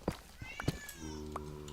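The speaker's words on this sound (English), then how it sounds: "Dude, I just heard a meow" A pet cat named Boots gives a couple of short, close meows, set against faint game sounds and a sustained tone during a Minecraft stream.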